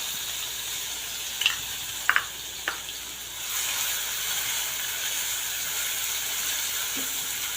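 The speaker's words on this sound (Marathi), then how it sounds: "कांदाही छान परतून घेऊयात" Onion frying in a pan with curry leaves gives a steady close sizzle. A few sharp pops and crackles come early, then the hiss grows fuller and louder and holds to the end, with no talk.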